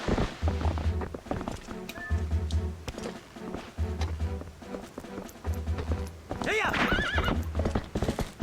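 Horse riding in Zelda: Twilight Princess brings rhythmic hoofbeats clopping in repeated bursts, with a loud whinny near the end, layered over game sounds.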